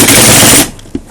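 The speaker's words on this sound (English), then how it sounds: "I have to go for an impact gun on this." A pneumatic impact gun rattles loudly in one rapid burst lasting just over half a second while removing bolts on an Emotator 1200 rotator, followed by a short metallic clunk.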